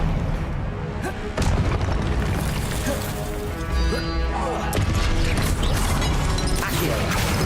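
Hogwarts Legacy spellcasting combat with the Expelliarmus spell: dense, loud layered magic effects, crashing impacts and mechanical clanks over a busy game soundscape, with voices under the action.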